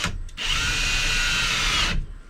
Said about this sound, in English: these are 2-inch construction screws I'm using to put this through. That's going to go all the way through the 2x4